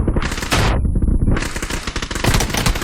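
SLR and DBS guns fire in a video game as loud, dense bursts of rapid gunshots, with overlapping blasts and a brief lull before the barrage resumes.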